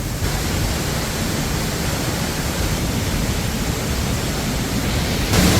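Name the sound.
big waterfall at Petit Jean State Park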